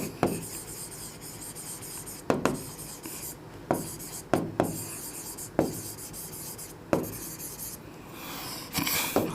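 Marker or chalk writing on a board while working through a coordinate geometry problem, with repeated short scratchy strokes and sharp taps at irregular intervals, close and fairly quiet, no talking.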